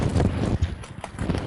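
Hooves of a therapy horse clip-clop at a slow walk on firm ground, a steady close rhythm of several strikes, with faint wind and no talk over it.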